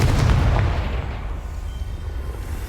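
A Confringo blasting spell goes off in Hogwarts Legacy: a loud, deep boom bursts at once, then rolls into a long, fading rumble that settles under a steady low drone.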